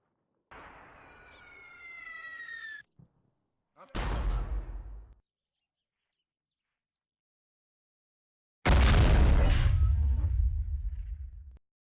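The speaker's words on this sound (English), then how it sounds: "Go back to our mortars and we would tell them click fire control on, and they would begin firing." Mortars fire in the Graviteam combat game, with two separate launches followed by a loud, heavy blast that rumbles on for several seconds, after an earlier rising electronic tone.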